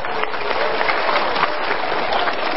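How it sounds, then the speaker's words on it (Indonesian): Audience applause at an Indonesian talk show taping as a couple is called up onto the stage, a steady, dense wash of many hands clapping at close range with no talk over it. "Ya, kita berikan tepuk tangan."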